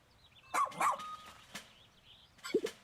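Dog barking in the video game Pikmin 4, a few short, sharp barks and yips spaced apart against a quiet background, with a faint tonal game sound.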